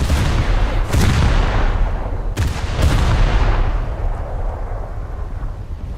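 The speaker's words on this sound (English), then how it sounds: "There goes some bombs." Bombs go off near a submarine in a naval video game, with a few loud, sharp blasts over a constant heavy rumble of battle noise.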